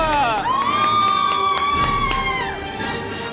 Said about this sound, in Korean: 박수 주세요, 여러분